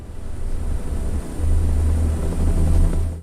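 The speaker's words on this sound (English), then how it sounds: "The sound of the helicopter cut through the morning silence before I even saw it, the rotating blades creating an unmistakable noise" A helicopter approaches through morning quiet, its rotor blades making a steady low, throbbing rumble that swells slightly louder partway through and then cuts off.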